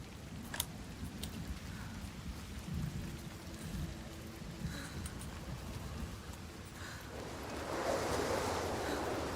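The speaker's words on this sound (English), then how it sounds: "Yay, we have rain now." Steady rain hisses under a low rumble of thunder in the video game Hellblade 2, with a few sharp ticks early on and the downpour swelling louder toward the end.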